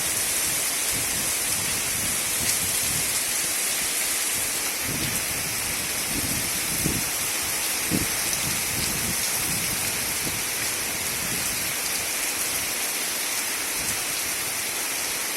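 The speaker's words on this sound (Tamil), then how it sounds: "கடுமையான மழை பெய்து கொண்டிருக்கிறது பொய்யாத நல்லூரில்" Heavy rain pours steadily in Poyyatha Nallur, a dense, loud hiss of drops hitting surfaces that continues unbroken throughout, with occasional low rumbles beneath.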